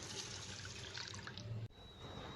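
Water poured from a vessel over washed dal set to soak, a continuous splashing pour that cuts off sharply near the end, leaving quiet room tone.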